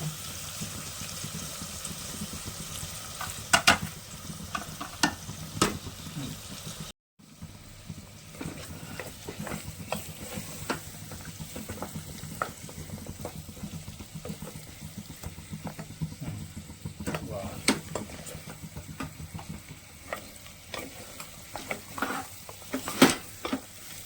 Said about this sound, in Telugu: ఇట్లా చక్కగా వేయించుకుందాం మనం వేగాలి మంచిగా